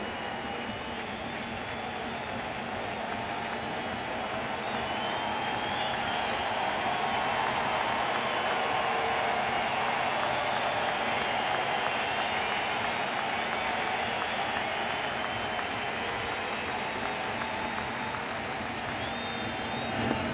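A baseball crowd at the 2017 NLCS Game 5 between the Cubs and Dodgers applauds and cheers in a sustained, even wash of clapping that swells slightly midway and holds for about twenty seconds.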